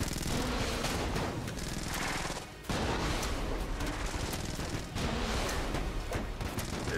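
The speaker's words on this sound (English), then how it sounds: "The long distance shot from the SMG" SMG gunfire in the video game Enter the Gungeon, a dense, continuous rattle of rapid shots with a brief dip partway, loud and unbroken with no talk.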